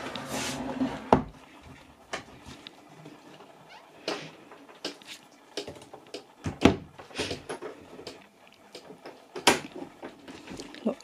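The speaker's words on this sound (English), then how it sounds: "Shut the door." An indoor door is pushed shut at night as a dog is let back inside, giving a few sharp wooden knocks and thuds among soft footsteps and rustling, fairly close and moderately loud.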